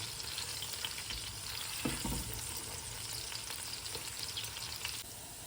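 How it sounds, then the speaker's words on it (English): Garlic fries in a hot pan over high heat, giving a dense, constant sizzle with a few stirring scrapes, close and fairly loud with no talking. "So just going to cook this on a high heat until it's nice and golden brown."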